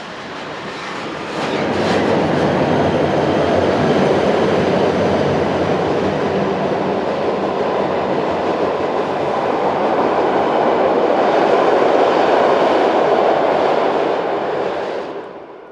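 A Swiss narrow-gauge passenger train, number 167, rolls past near Interlaken on its way to Zweilütschinen. A sustained, close, loud rumble with steady clickety-clack of wheels on rail swells in and holds before trailing off at the end.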